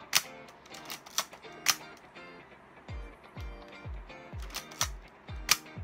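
A secondhand Nikon F film camera with a Photomic finder repeatedly fires its shutter at high speed, producing a series of crisp mechanical clicks and clacks at an irregular pace, close and fairly quiet.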